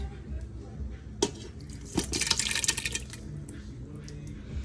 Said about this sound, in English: So what we're gonna do now is we're gonna drain it